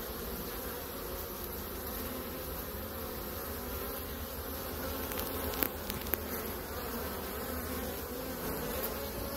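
A steady, dense buzzing of many honeybees around a hive, continuous and close, with a few brief clicks and no voices.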